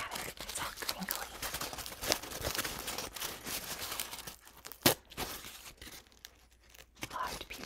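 Sheets of artist's scrap paper crinkle and tear up close, in irregular bursts of crackling and rustling with one sharper rip, while a soft voice murmurs faintly in the background.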